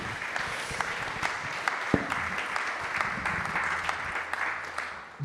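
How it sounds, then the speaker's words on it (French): A room of attendees at an academic colloquium on Jean-Louis Le Moigne's work applauds steadily, dense overlapping claps with a few sharper individual hits, sustained for several seconds at moderate loudness without speech on top. "Merci, on t'applaudit"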